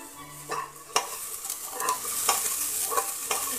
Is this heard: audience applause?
no